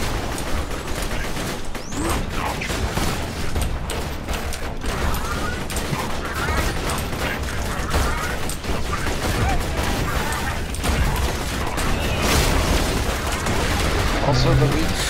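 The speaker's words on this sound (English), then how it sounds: "Turret, activate!" Turret gunfire in a video game amid a robot fight, a dense, continuous clatter of rapid shots and mechanical crashes layered over a loud game soundscape.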